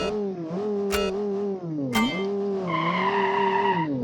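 A 12-liter car in a video game roars with a loud, steady engine drone that dips and rises, joined near the end by a sustained, piercing tire squeal as it skids.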